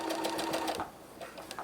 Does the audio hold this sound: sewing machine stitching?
yes